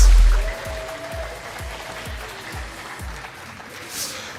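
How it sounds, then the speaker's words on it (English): Audience applause for drone racing pilots at the finish of a qualifying round, a dense broadband patter at moderate level that fades slightly over a few seconds, with a low repeating thump underneath. "Please give a round of applause for our pilots."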